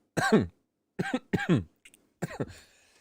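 Several sharp coughs close by, in short bursts: one, then a pair, then a final rougher cough trailing off, with a small sound between.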